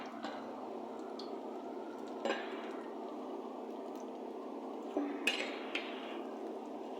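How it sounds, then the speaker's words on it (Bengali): Low, steady bubbling of oil in a wok, broken by a few soft clatters and scrapes as fritters are turned over. "বড়াগুলো এক এক করে উল্টিয়ে দিব।"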